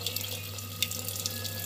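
Water runs from a tap in a steady stream, splashing into a container close by, with a low background hum.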